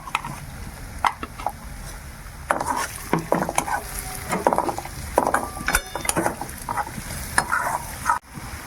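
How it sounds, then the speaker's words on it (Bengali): Ginger and garlic frying in a pan, with Kashmiri chili powder being added, for a fish roe curry: a soft sizzle beneath irregular clattering spatula scrapes and knocks against the pan, with no talking. "আদা রসুনটা একটু একটু ভাজা হয়ে গেছে, এবার আমি কাশ্মীরি লঙ্কা গুঁড়োটা দিয়ে দেবো।"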